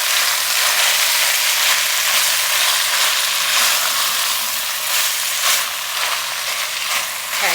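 Carrots, celery, onion and roasted garlic sizzle steadily in a pot over medium-low heat while being stirred, a dense close hiss with faint scraping and no talking.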